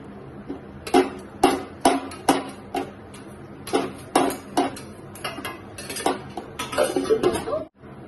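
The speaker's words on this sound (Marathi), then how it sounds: "इथं मी मिक्सरच्या भांड्यामध्ये टाकून घेत आहे" Cut mango pieces are dropped and scraped into a mixer jar, producing a run of sharp close clinks and knocks against the jar in an irregular rhythm, with no talking.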